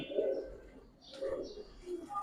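Giribaj pigeons coo softly, three low throaty coos in a row, close by, with faint chirps in the background.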